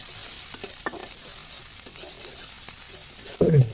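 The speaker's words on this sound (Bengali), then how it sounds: "পেঁয়াজটা একটু নাড়াচাড়া দিয়া" Chopped onion frying in oil in a pan for noodles is stirred: a faint steady sizzle with light scraping strokes, ending in a louder, closer clatter of the spoon.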